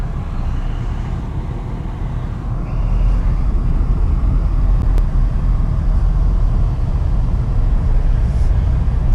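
An MG HS pulls away in first gear, heard from inside the cabin as a low, steady rumble of engine and road noise that swells slightly as the car gets moving.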